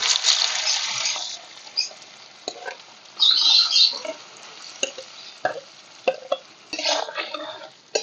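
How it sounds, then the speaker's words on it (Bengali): Paneer pieces frying in hot mustard oil in a pan, a close, loud sizzle with bursts of crackling and spitting that rise and fall, plus occasional stirring scrapes; no talking. "এবার আমি পনিরগুলো ভেজে নেব"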